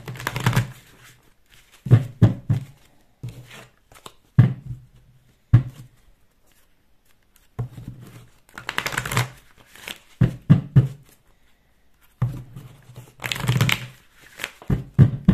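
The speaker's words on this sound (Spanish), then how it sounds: "Es un tarot que es difícil de barajar por la forma." Bursts of tarot cards being shuffled and riffled, several quick rustling runs separated by pauses, close and clear with no talking.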